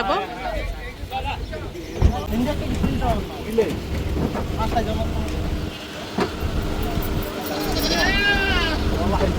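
Goats bleating at a Saudi livestock market before Eid sacrifice, several wavering cries near and loud over a vehicle engine and people talking throughout.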